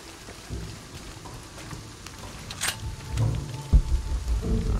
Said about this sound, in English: This storm is coming in quick.